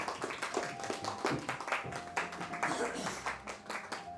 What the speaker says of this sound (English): with a very gentle round of applause